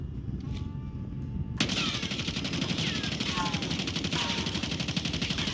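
Automatic fire from a GPR assault rifle in Warzone, a dense rapid burst starting abruptly after a quiet moment and running steadily and loud to the end, with faint game sounds beneath.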